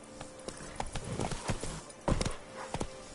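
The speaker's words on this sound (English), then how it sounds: "Whoa there, Roach." Horse hooves clip-clop in The Witcher 3 video game, a quick, uneven run of hoof strikes over a few seconds with a brief louder cluster partway through, moderately close and without speech.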